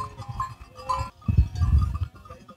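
Dairy goats bleating at a farm sale pen, several overlapping calls in quick succession, fairly close and loud, with a louder burst of bleats in the second half and no talk.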